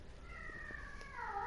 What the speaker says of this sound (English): No, Sam, that's my cat.